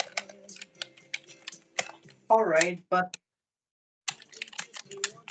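Rapid clicking of computer keyboard keys, steady and close, with a short stretch of speech breaking in midway before the typing resumes.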